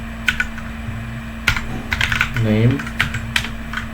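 Scattered keyboard clicks while Python code is typed on a computer keyboard, sharp taps spaced irregularly over a steady electrical hum, with a brief spoken word partway through.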